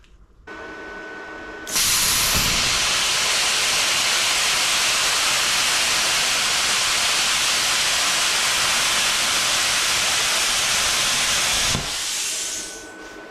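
A CUT-50P pilot arc plasma cutter slices through aluminum plate, starting with a sharp ignition pop and then holding a loud, steady roaring hiss for about ten seconds before cutting off, leaving a quieter fan hum behind.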